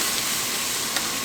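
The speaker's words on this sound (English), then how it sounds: "I could hear some sizzle" Ribs sizzle on a charcoal grill over direct heat, a steady dense hiss that holds evenly throughout at moderate loudness with no talk.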